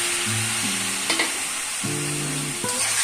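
Chicken pieces sizzle loudly in a pan, a dense continuous frying hiss under brief stirring clatter and a few faint tonal beeps.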